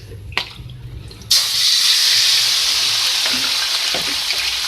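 Marinated chicken liver hits hot oil in a pan and bursts into a loud, steady sizzle that keeps going after a quiet start with a clink or two; no talking.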